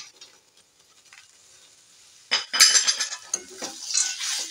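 Peanuts being stirred into a carrot vegetable chop mixture in a pan, with a run of close scraping and clattering utensil-on-pan strokes after a quiet start.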